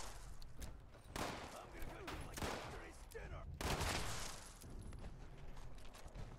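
Gunfire aimed at a car in the Fallout 76 video game: loud, dense bursts of rapid shots come in clustered volleys across the whole stretch, with steady background game noise between them.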